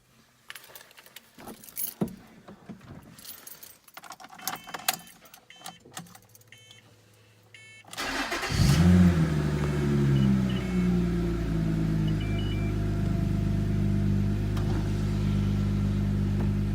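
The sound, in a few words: 2010 Lotus Evora car engine starting and revving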